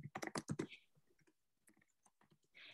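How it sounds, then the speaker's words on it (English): Bursts of rapid keystrokes on a computer keyboard, close and fairly loud at first, then fainter scattered clicks with a short pause before another quick run of typing. "I'm going to type this in the chat."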